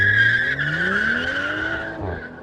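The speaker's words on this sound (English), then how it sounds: "is a heap of wheel spin, and the car bogs down" A Mercedes-AMG A45 S launches under launch control, its engine note rising loud and close as the tyres squeal through heavy wheel spin, then bogs down near the end.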